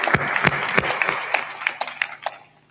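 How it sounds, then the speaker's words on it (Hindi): An audience claps at a spiritual discourse gathering, a run of sharp hand claps that thins out and fades over a few seconds. "ताली बजाओ"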